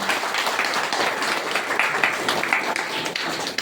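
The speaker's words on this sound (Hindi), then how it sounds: "तो एक बार इनके लिए भी जोरदार ताली।" An audience at a school parent-teacher meeting gives a round of applause, a steady, fairly loud patter of many hands clapping together.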